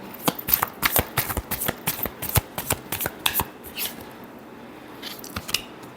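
Tarot cards are shuffled up close, a rapid run of crisp flicking riffles that slows into a few scattered snaps and taps, with no one speaking.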